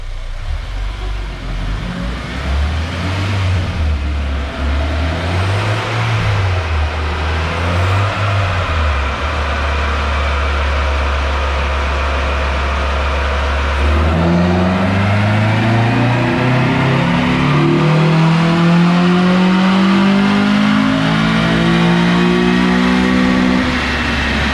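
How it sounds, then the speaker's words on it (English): A car on a chassis dyno runs a baseline power pull after a fuel pump change, its engine droning loud and close, surging in low pulses before climbing steadily in pitch through a long full-throttle sweep. "just do some baseline pulls to make sure it's making the power that it used to make"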